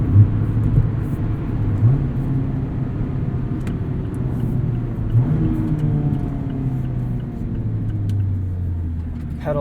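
A 2020 Mazda MX-5 Miata Club manual convertible hums along at a steady low rumble while cruising around town, its engine note rising and falling gently with light throttle under road and soft-top noise.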